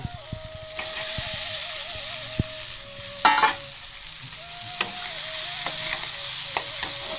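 Fried potato pieces drop into spice masala sizzling in oil and get stirred, giving a steady hiss of frying broken by metal spatula scrapes and clinks, with brief speech mixed in.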